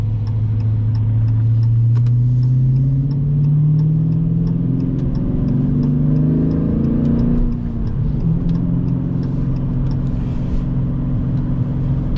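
A small car with a 46 hp engine driving at about 60 km/h, its mid-pitched engine note rising steadily and then settling, loud and continuous throughout with no talking.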